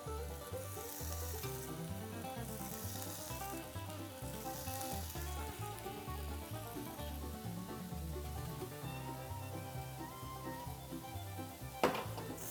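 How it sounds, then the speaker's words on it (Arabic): Hot dogs fry in olive oil in a hot pan, giving a steady sizzle that runs throughout under a loud background music track, with one brief louder clatter near the end. "بنحط له شوية زيت زيتون، بنصير نقلبهم بقلب صحن ودغري على مقلية حامية"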